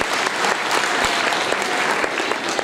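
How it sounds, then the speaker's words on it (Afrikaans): Audience in a hall claps steadily at an Afrikaans children's gospel show, a dense, continuous round of applause throughout with no talking over it. "gee vir hulle 'n klap"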